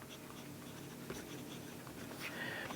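A Faber-Castell fountain pen with an angled nib scratches faintly across paper in short, quiet strokes against a soft room background.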